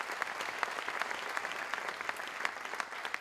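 Steady applause from an audience at a Mumbai Success Day motivational business event, dense hand claps sustained throughout at a moderate distance, with faint voices underneath.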